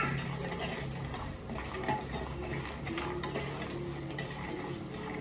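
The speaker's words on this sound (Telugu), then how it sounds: "ఇది లైట్గా కొంచెం ఫ్రై అయ్యాక" Sesame seeds, cumin, garam masala and cashews fry lightly in a pan for a stuffed eggplant curry, giving a soft, steady sizzle with faint stirring scrapes, quiet and unbroken.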